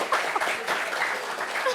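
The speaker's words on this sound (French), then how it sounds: "applaudissements pour elle." A studio audience on a discussion show applauds a woman, a brief, dense patter of many hands at even, moderate loudness throughout.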